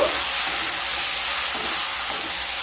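Capsicum and potato masala with chili powder stirred in a pan, giving a steady close frying sizzle that runs unbroken throughout, with no talking.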